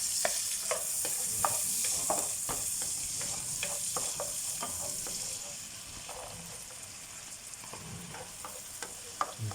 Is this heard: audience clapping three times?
no